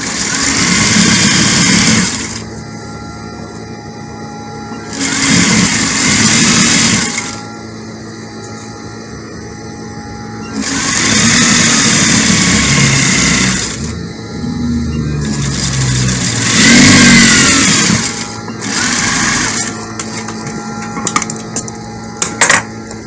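A sewing machine stitches a peplum dress straight down, whirring loudly in several long runs with brief lulls and a steady background hum throughout.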